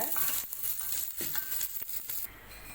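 Chopped coconut pieces dry-roasting in a pan without oil give faint scraping and light rattling as they are stirred, a few soft clinks and rustles at close range.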